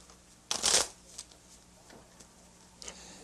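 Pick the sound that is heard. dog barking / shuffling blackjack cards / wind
shuffling blackjack cards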